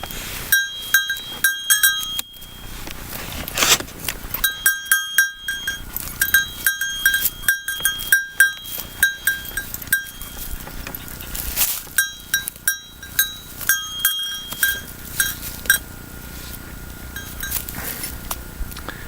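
Goats moving around on a Mediterranean hillside in winter aftermath, bells clanking and tinkling in irregular bursts with rustling and scuffing, close by, pausing and resuming several times.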